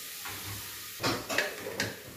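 Calabresa sausage and other meats sautéing in a pan, with a steady soft sizzle and a few scraping stirs of a utensil against the pan, close and moderately quiet.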